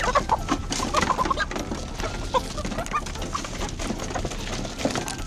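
Chickens in a large coop, Rhode Island breeds among them, cluck and squawk in a busy commotion at feeding time, a dense continuous flock chorus nearby with no talk.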